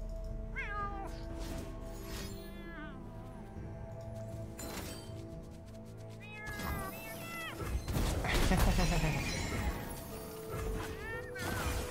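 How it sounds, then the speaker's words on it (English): A cat meows repeatedly at close range with rising, wavering calls, over steady background music and voices talking during a Legends of Runeterra card game. "Von Yep's a noisy cat."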